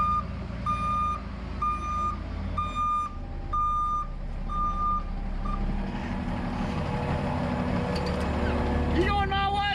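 A truck-sized vehicle pulls up close by, its engine rumbling steadily and a series of evenly spaced reversing beeps sounding at the start before fading into the idle, with a voice calling out briefly near the end.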